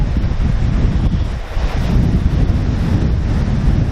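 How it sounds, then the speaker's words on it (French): Sea waves break on rocks in a loud, continuous roar, mixed with heavy wind buffeting against the microphone. "il y a trop de vagues sur les rochers"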